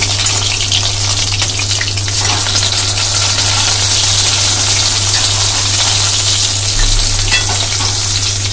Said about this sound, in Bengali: এভাবে উল্টে পাল্টে দুদিক দিয়েই আমরা লাল করে মাছগুলো ভেজে নেব।